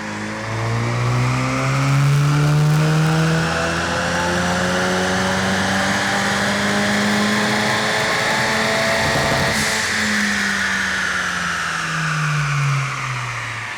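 Ford Mustang EcoBoost with an OTS Stage 1 tune revving hard on a dyno, a loud steady engine drone climbing and holding high revs, then dropping away near the end, with no talking.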